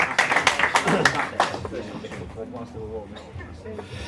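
Applause from a live quiz-show audience for a contestant patters loudly for the first second or so, then thins out and fades as someone speaks over the tail.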